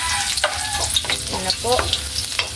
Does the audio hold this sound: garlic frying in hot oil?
yes